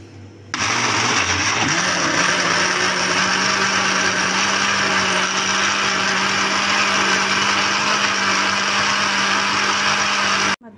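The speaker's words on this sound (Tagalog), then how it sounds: "I-blender ko na lang siya mga kadex." A blender runs continuously at full power, pureeing cooked lentil and vegetable soup (shorba ades) with a loud, steady whirring drone that starts abruptly and cuts off at the end, with no talking.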